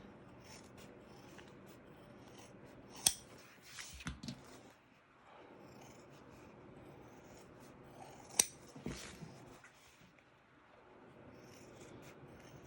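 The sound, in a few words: scissors rounding the corners of a fabric zip bag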